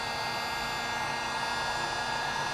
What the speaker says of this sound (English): be careful about pointing the heat gun at the plastic